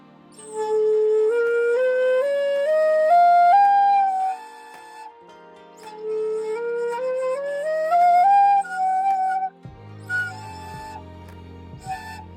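A breathy Japanese shinobue bamboo flute plays a rising scale, note by note, twice in succession, followed by a few brief scattered notes at the end.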